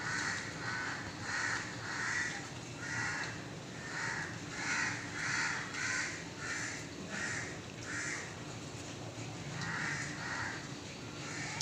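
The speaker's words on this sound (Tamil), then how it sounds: "காக்கா கத்துறதை பார்த்துட்டு வந்து கூட இருக்க எல்லாம் கத்துது" Crows cawing repeatedly, several calls overlapping in an irregular rhythm at moderate distance, with steady outdoor background noise beneath.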